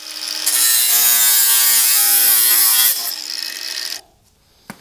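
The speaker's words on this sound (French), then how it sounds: "Utilise une scie à métaux ou une meuleuse d'angle." A loud, steady power saw, a hacksaw or angle grinder, grinds through metal rails for about three seconds, then cuts off, leaving near silence.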